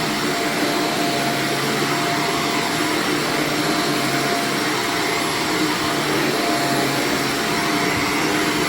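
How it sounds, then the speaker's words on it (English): A vacuum cleaner runs over carpet on a dark brown rug in an empty room, giving a loud, steady, unbroken drone with no pauses or voices throughout. "not only are you going to please them with vacuuming the carpet prior to professionally cleaning it"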